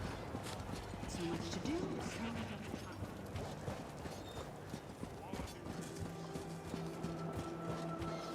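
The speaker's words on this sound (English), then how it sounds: "The horses are restless." Restless horses in the video game Elder Scrolls Online, with clip-clopping hooves and shuffling at a stable amid ambient game sounds, moderately faint, with a voice speaking over it.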